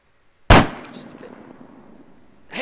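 A single loud, sharp sniper rifle shot in Arma 3 cracks out and trails off into a long fading echo, followed by the start of a second shot at the end.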